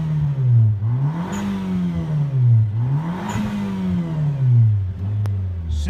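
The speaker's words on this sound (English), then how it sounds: "I'm trying to give y'all some revs" A Nissan Juke engine, in reverse, revs repeatedly, pitch climbing and falling in three slow waves, close and steady with no talking.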